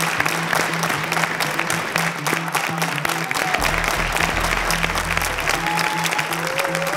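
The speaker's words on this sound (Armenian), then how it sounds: "Մհերին ու ռազմիկին բարձր ծափար մենք հենց հիմա" A gala concert audience at a singing competition applauds loudly, a dense continuous patter of many hands with sustained music tones underneath and a low rumble joining midway.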